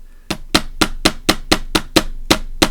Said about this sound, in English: Get the hammer. Get some gentle tapping down.